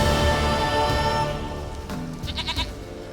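A goat bleats in The Witcher 3, a few short wavering calls near the end over steady game ambience and music.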